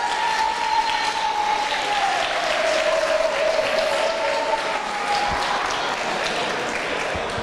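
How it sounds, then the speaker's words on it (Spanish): Steady audience applause at a Ruta del Atún 2016 event, dense and continuous for the whole stretch at moderate level, with a faint sustained tone running through it. "Es que no me voy a dar un aplauso así otra vez en toda la tarde"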